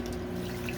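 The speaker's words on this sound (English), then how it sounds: "I can hook the drain hose right there on the side of the bathtub to be able to drain the water into the bathtub." Water from a washing machine drain hose runs into a bathtub aboard a converted school bus, a close, steady trickling wash with a faint tonal hum beneath.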